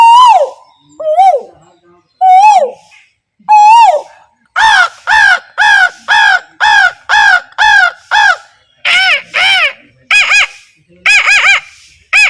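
A voice imitates the koel's call: a few rising whistled hoots, then a fast run of about a dozen loud, strongly harmonic, evenly spaced calls, each one alone and close.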